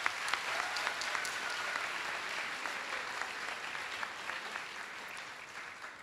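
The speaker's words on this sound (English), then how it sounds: "please give yourselves a big round of applause" Applause from an audience of program participants at a summer youth culminating event, a dense steady clapping that stays fairly even and moderately loud throughout with no voices over it.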